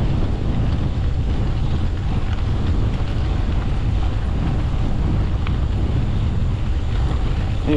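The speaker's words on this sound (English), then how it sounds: "It is super windy out in this section." Strong wind roars and buffets the microphone nonstop on an exposed stretch of South Jersey sand and gravel road, a loud, gusty rumble with no voices.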